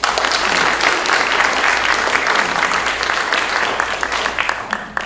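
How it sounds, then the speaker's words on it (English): An audience at a community talk event claps loudly and steadily for the sponsors, a dense round of applause that holds for several seconds and thins slightly at the end. "So big hand of applause for our sponsors."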